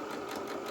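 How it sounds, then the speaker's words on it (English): A sewing machine runs a steady, continuous stitch close along the top crease of a doll-sized shirt, set to a 2.2 stitch length, with a fast even motor hum throughout. "sewing machine, and we're just going to sew just nice and close to this top crease"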